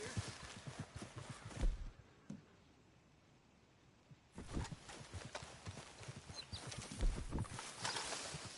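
A horse in the Red Dead Redemption game trots with rhythmic clip-clopping hooves, loud and close, breaking off into a short quiet stretch before the steady hoofbeats resume.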